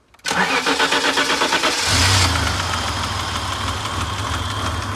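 BMW 730iL engine cranks and catches on the first try, then settles into a steady idle with a low rumble, loud and close, with no talk over it.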